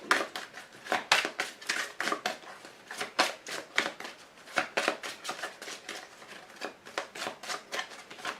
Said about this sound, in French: Je vous tire également une carte de l'archange Gabriel, qui va être une carte conseil.